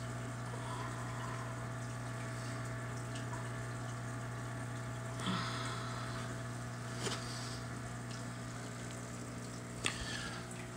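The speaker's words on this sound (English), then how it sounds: "This is the 29 gallon, filtered by my Sun, HW304B, minus the ultraviolet light." A Sun HW304B canister filter, with its ultraviolet light removed, runs on a 29-gallon mixed cichlid aquarium, giving a steady low hum and faint water trickle throughout, with a few soft clicks and splashes.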